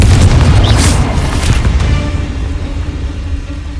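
A Confringo spell explosion in Hogwarts Legacy: a loud, close booming blast with a crackling burst, then a low rumble that slowly fades away.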